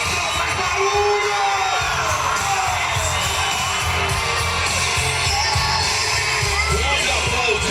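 Rodeo crowd at a bull-riding final during a festival, a loud dense roar of cheering, whoops and shouting that stays continuous and close throughout, with no break.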